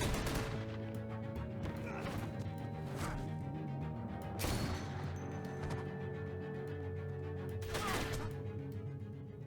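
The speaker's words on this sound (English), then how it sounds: "I hear gunfire." Gunfire in The Walking Dead: Season Three: a few sharp shots crack out over a steady droning background and musical tones, with a heavier burst midway.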